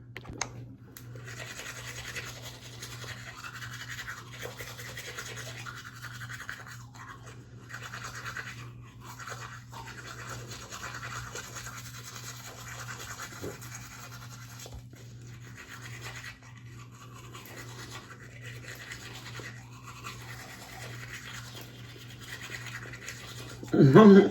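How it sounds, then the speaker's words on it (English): A toothbrush scrubs back and forth against teeth in a long run of close, soft scratchy strokes with short pauses, ending in a louder, sharper stretch of brushing. "brush my teeth, scrape my tongue."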